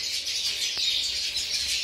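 Canaries singing, a steady high twittering chorus of several birds, fairly close and continuous, heard alone without voices.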